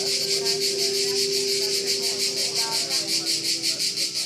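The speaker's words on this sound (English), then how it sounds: "the cicadas that you already heard through the open entrances of the pavilion now are much louder" Cicadas sing loudly in a summer tree close by, a dense pulsing buzz that throbs in a fast regular rhythm throughout, with a steady low hum underneath.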